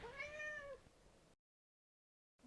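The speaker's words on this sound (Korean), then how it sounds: "저희 고양이 보고 가실게요." A pet cat lets out one clear, close meow that bends downward in pitch, followed by quiet and then a near-silent gap.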